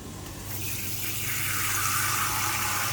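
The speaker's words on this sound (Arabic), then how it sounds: "نزل بقى عليها شويه الميه مع المرقه يعملوا ايه شوربه" Water pours into a pot of chicken pieces, onion, garlic and half a stock cube, a close, steady rushing splash that grows fuller after the first half second.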